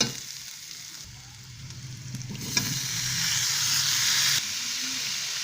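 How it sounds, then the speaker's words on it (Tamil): Tomatoes drop into a pan of frying onions for garlic kuzhambu, bringing a sharp rise into loud, steady sizzling and hissing, with stirring scrapes, heard close with no talk. "இப்போ நாம் இதில் கொஞ்சம் தக்காளி சேர்த்து விட்டுக்கலாம்."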